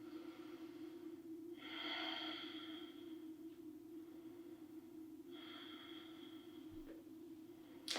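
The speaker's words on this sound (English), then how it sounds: "take a few breaths" Slow, soft breaths in a seated yoga pose: two long airy inhales or exhales a few seconds apart over a steady low hum, quiet and close, with no talking.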